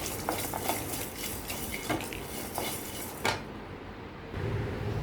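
Coriander, cumin, dried red chillies, cloves, cardamom and cinnamon dry-roasting in a pan with no oil, giving close, steady scraping and stirring with light clinks of a utensil against metal.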